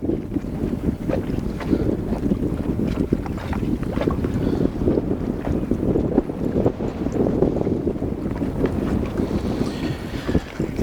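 Gusty wind blows steadily across open water around a small fishing boat on a fall outing, a loud continuous rumble with microphone buffeting and faint lapping water, no voices.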